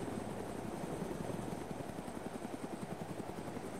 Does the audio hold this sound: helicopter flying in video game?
yes